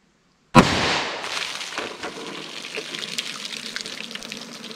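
A single sharp, loud 10mm Auto gunshot fires an Inceptor ARX plastic bullet into gel, an abrupt close crack followed by a splashing, sloshing burst that trails off over several seconds.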